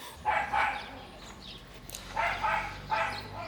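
A dog in Mexico barks in the morning, giving a few short, mid-pitched bow-wows in two brief bursts that are close and moderately loud, with quieter stretches of room noise between them.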